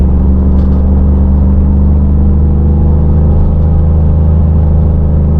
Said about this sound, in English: I'm still just in high RPM and not gaining any speed.